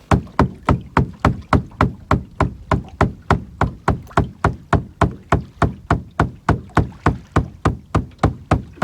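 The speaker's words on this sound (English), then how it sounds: "Beat the boat a little bit, bring them in here." Steady, evenly spaced knocks beat on a fishing boat's hull on a lake, about three per second, each a loud, close, hollow thud repeated over thirty times without pause.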